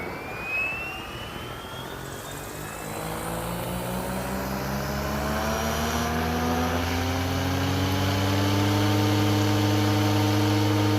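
A three-blade SAB Goblin 570 6S RC helicopter fills the air with a loud, continuous rotor and motor whine that climbs steadily in pitch as it spools up and lifts off, with no talking.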